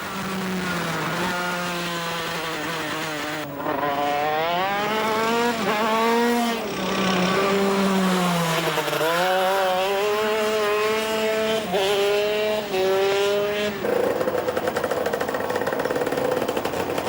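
A go-kart engine buzzes loudly on a race track, revving and dropping in pitch through corners as the driver brakes and accelerates, staying close and continuous with several shifts in speed.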